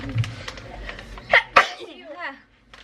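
A sharp sneeze bursts out close by, with a short sniff or catch of breath before it, then a brief spoken reply.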